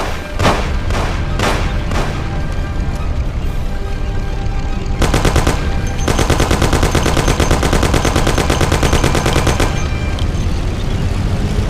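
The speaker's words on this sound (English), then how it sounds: "Take my Thompson. You and Sam shoot them." In the video game Mafia, a Thompson submachine gun fires loud, close bursts: a few single shots, then long rapid rattling strings over a steady engine rumble.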